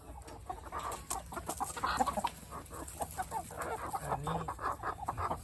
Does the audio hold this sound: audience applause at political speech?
no